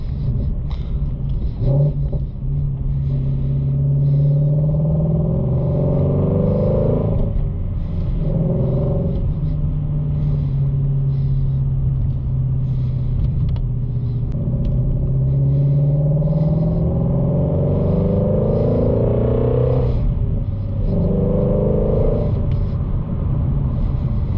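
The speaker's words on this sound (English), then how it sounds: "one of my favorite things about this car is the sound. This thing sounds absolutely insane." A loud, deep engine rumble from a Shelby Mustang GT350 being driven, rising and falling as it revs and shifts, steady throughout with no talking.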